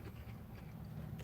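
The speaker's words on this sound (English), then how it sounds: "Some of these pepperonis, the ones that are cupped, they have that extra little crunch to them." A crisp bite into cupped pepperoni on a Little Caesars classic pepperoni pizza, with soft crunching and chewing that is quiet and close, then a sharper crackle at the end.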